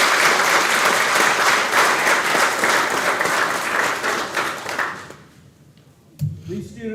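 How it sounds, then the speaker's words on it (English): An audience at a TL Hanna athletics signing day applauds the student athletes' parents with loud, sustained clapping that fades out after about five seconds, followed by a brief thump and some faint noise. "let's give the parents a big round of applause"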